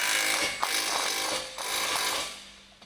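A large electric impact wrench with an 18mm socket on a Ford Focus ST tightening the lower control arm ball joint-to-knuckle bolt, a loud continuous rattling hammer with brief pulses, fading out at the end.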